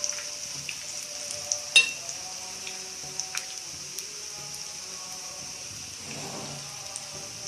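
Vegetable pakora frying in oil on low heat, a steady, gentle sizzle with occasional light clinks of a utensil against the pan.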